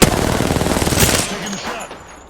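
Enemy gunfire in the shooter game Apex Legends: a rapid, loud automatic burst of shots rattling steadily for over a second, then breaking into scattered fainter shots and fading, with no talk.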